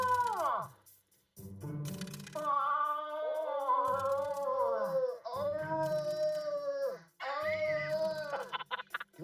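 A man imitates a moose mating-season call with long, wavering, moaning wails, loud and close, broken by a few brief pauses over roughly nine seconds.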